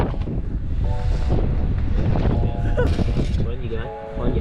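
Strong wind gusts buffet the microphone at a campsite in Hong Kong, a steady rough roar under people talking.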